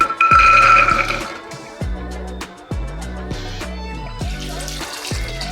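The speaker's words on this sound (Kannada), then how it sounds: "ಕಾಳು ಮುಳುಗೋ ಅಷ್ಟು ನೀರು ಹಾಕೊಳ್ಳಿ ಸಾಕು" Water splashes and pours into a metal pressure cooker over soaked chickpeas in several bursts, with clinks of the vessel between pours, close by.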